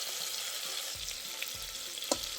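Oxtail pieces fried on both sides in a pan, giving a soft, steady sizzle with a few faint scrapes and clinks as they are handled.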